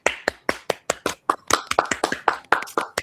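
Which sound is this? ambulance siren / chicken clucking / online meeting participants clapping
online meeting participants clapping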